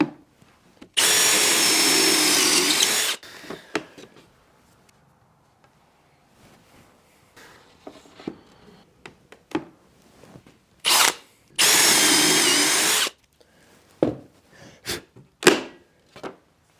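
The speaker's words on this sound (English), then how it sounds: "I'm going to add some pocket hole screws" Drill driving pocket hole screws into plywood, two loud whirring bursts of a few seconds each separated by quiet, with brief clicks and short shorter spins between them.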